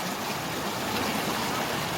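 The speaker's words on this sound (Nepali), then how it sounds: "झर्नाको पानी है गाइज यो चाहिँ" Water of the Milung waterfall rushes in a dense, unbroken roar, loud and close, with no pauses or distinct splashes.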